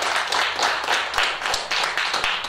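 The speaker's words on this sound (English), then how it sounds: "Big round of applause" A church congregation applauds during a Sunday morning service: steady, dense clapping with a few sharper individual claps standing out, holding at an even level for a couple of seconds.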